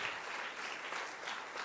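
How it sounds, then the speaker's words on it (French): Applause from the festival audience at the close of the West Web Festival and its startup contest, steady, dense clapping filling the whole stretch at an even level with no voices. "on peut les applaudir très très fort"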